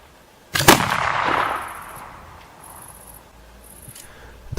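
A single loud, close gunshot from a 1777 muzzle-loading pistol fired at a 25-meter target range cracks sharply, then leaves a long fading echo and a few faint clicks.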